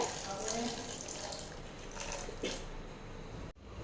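Water splashes and pours steadily into a container of jaggery at close range, a continuous gushing stream that cuts off abruptly near the end.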